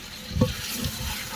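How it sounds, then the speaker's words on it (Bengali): Spices and meat fry and get stirred in a large cooking pot, a soft continuous sizzle broken by a louder scrape of stirring partway through, close by with no talking. "মশলাগুলো কষায় নিয়ে আসছে, দেখতে পাচ্ছেন।"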